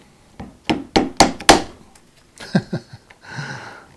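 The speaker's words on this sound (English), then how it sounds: "you'll need a wedge of wood like this, some sort of hardwood, which you can tap the" Hardwood wedge tapped against a woodcarving tool to knock its handle off: a run of five sharp, close wooden knocks, then a few softer taps and a brief scraping rustle.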